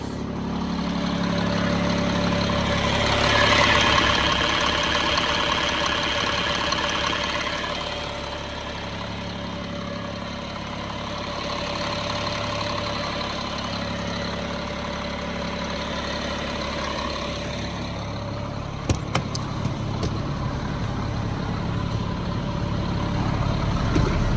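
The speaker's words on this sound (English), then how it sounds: "Caterpillar C7." A Caterpillar C7 diesel engine idles in a 2006 Peterbilt 335 mechanic's truck, a steady low rumble that holds evenly throughout, with a few brief clicks or knocks near the end.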